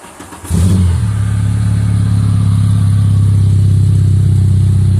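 A Volkswagen Jetta engine catches after a brief fumble and settles into a loud, steady, close-up rev held at a constant pitch, heard alone without voices.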